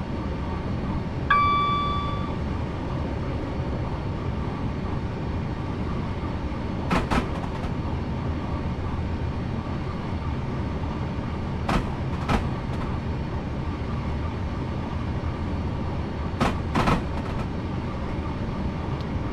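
A train runs in the Train Simulator video game on the Portsmouth Direct Line, a steady low rumbling drone with a brief horn-like tone early on and a few faint clicks and clunks, alone without talk.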